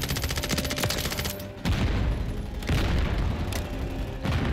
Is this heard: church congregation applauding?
no